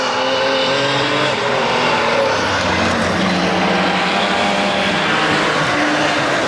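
Loud Ford Sierra race car engines roar continuously as the cars pass close by at Grimley Raceway, with harsh exhaust notes and some tire noise, no talking.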